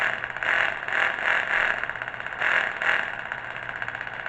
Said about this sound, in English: Takes a couple tries to get where you want to idle, but it works.